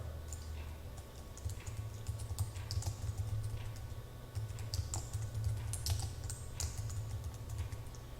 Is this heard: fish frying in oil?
no